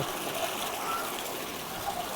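A household water pump motor runs while water gushes steadily, making a continuous, even rushing hiss at moderate loudness with no clear breaks.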